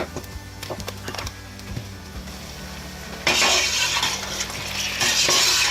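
Meat goes into onions browned light in hot oil for Afghani Kabuli pulao, beef or mutton, and a loud sizzle bursts up partway through. Stirring and pan clatter come before it, and a second surge of frying follows near the end. No one speaks.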